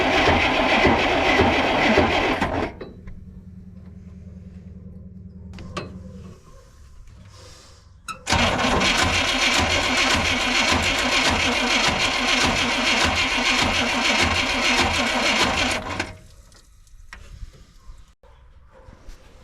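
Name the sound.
1957 Chevy 4x4 engine cranking to test fuel pump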